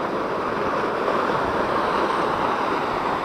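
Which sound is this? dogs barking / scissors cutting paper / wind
wind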